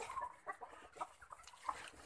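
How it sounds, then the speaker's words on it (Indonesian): Hungry chickens clucking and squawking near a pigeon coop, a few sharp squawks standing out over a steady background of farmyard clucking. "Ayamnya ngamuk kelaparan."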